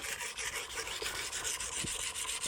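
A Magnacut chef's knife scrapes across a coarse Norton Crystolon silicon carbide stone in quick, rhythmic gritty strokes, close and steady with no talking.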